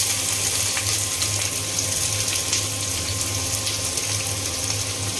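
Sliced onions sizzle steadily in hot oil for a hilsa fish curry, a continuous hissing fry with a faint hum underneath and no talking.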